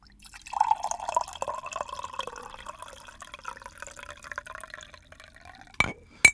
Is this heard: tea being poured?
yes